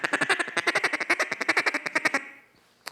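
Loud, rapid quacking from a duck call, about twenty sharp notes in a fast even run that stops abruptly, followed by near silence and one final click.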